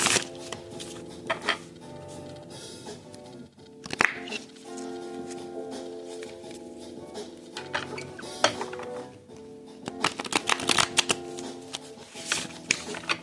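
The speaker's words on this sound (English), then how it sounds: "sorry if you think my shuffling sucks" A brand new tarot deck is shuffled by hand in a run of quick papery riffles and taps that come in irregular bursts over a faint steady background tone.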